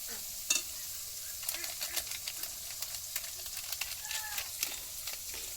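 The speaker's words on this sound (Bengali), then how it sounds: "একটু কাশ্মীরি লঙ্কা গুঁড়ো দিয়ে ভালো করে নাড়াচাড়া করে নেবে।" Kashmiri chili powder being stirred into biryani masala frying in a pan, with a steady soft sizzle under repeated scraping strokes of a spoon, close and fairly quiet, no talking.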